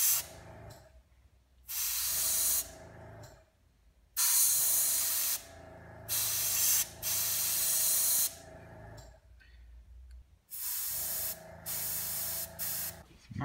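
An airbrush sprays a mixed black and brown paint onto a Hyperion SMG prop, a loud hissing in repeated bursts of one to two seconds with short quiet gaps between them.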